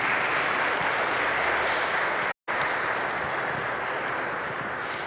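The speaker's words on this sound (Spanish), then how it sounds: "Le damos un aplauso." An audience applauds at a memorial tribute event, a loud, dense, continuous roar of clapping broken by one brief silent gap midway, then resuming at full strength.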